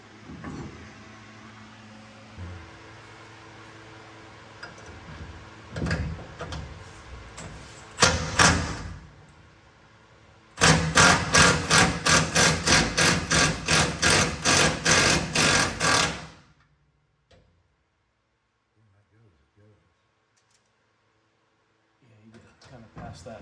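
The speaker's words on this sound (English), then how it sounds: "use a little 1/8 inch drill bit to get this, basically drill a pilot hole" Short electric drill bursts, then a longer stretch of rapid pulsing drilling a pilot hole into metal with a 1/8 inch bit for several seconds, stopping abruptly into near silence.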